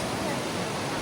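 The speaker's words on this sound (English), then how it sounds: "Now this is more like it. Shifen waterfall." Shifen waterfall in Taiwan, a dense steady roar of falling water filling the whole clip, loud and unbroken, with faint voices underneath.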